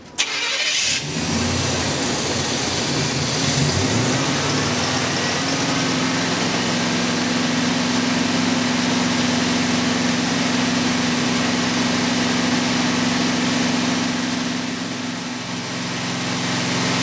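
A 30-year-old truck's engine runs steadily to drive an on-board welder, a close, continuous drone with a strong steady hum after a brief start at the beginning, holding even for about sixteen seconds with no talking.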